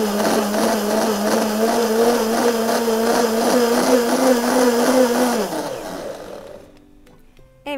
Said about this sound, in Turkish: Şu anda blenderdan kısa bir süre karıştırdıktan sonra kefirim hazır